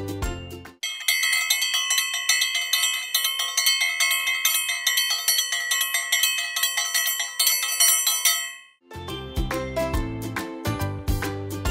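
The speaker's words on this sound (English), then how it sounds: "This is a triangle" A triangle struck repeatedly, its bright metallic ringing sustained for several seconds, then a brief gap before another burst of ringing strikes, loud and close with no voices.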